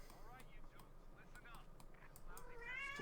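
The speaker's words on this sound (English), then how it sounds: "Vassal going meow." A pet cat meows several times in short, fairly faint calls, with someone talking over it and quiet game sounds beneath.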